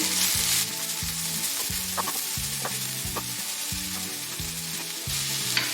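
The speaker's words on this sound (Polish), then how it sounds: "I smażymy pod przykryciem" Loud, steady sizzling of cabbage with caraway frying in a pan, with soft rhythmic scraping and stirring throughout.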